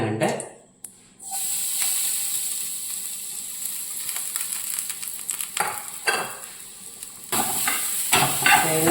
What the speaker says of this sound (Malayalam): ഇനി നമുക്ക് തേങ്ങ ഒന്ന് വറക്കാം